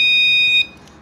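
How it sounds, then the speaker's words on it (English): A Keye security alarm gives a steady, shrill electronic beep during remote pairing. The tone holds loud for about half a second, then cuts off abruptly into quiet room noise. "When it beep, press this button and pairing is done."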